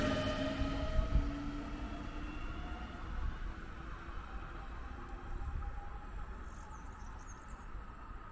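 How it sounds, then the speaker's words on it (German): Regional train RB 71, a class 4040 unit, pulls away toward Trier, heard as a steady rumbling rail noise with faint whining tones that slowly fades, moderately distant, with crickets chirping faintly. "Die RB 71 fährt nach Trier Hauptbahnhof mit einer Baureihe"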